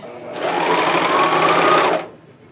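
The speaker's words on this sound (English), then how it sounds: "I cut all my threads and I serge off the end just to kind of get everything unthreaded." A serger sewing machine runs in one short, steady burst of about a second and a half, serging off thread ends. It is close and loud, with a fast whirring stitch that starts and stops abruptly.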